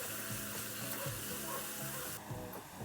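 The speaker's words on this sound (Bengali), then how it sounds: "দইটা দিয়ে আমি একটু ভালো করে কষিয়ে নিচ্ছি।" Tomato and beaten yogurt sautéing in a pan for a spicy potato dish, a steady close sizzle with stirring scrapes throughout and no speech.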